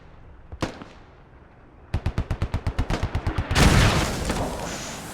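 Gunfire in a military video game: a single sharp shot, then a rapid evenly spaced burst of about a dozen automatic rounds, followed by a loud rumbling blast that fades.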